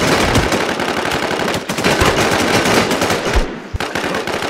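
Gunfire in the online shooter game Infestation: dense rapid automatic bursts, loud and continuous with barely a break, close and with no talk over it.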